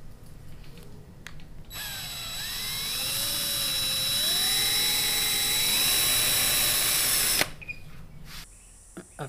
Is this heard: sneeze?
no